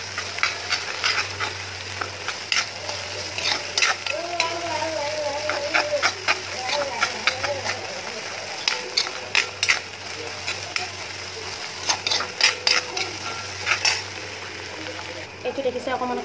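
Shidol (fermented fish) chutney, seasoned with a little salt, is stirred in a pan until brown, with steady frying sizzle and repeated scraping clinks of a utensil, while a voice talks over it now and then.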